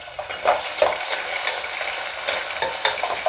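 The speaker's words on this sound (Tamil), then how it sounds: "இந்த நம்ம நறுக்கி வச்ச வெங்காயமும் இதில் போட்டு நல்லா வதங்க" Onions sizzle and fry in hot sesame oil, a steady crackling hiss with occasional stirring scrapes, close and moderately loud, no voices.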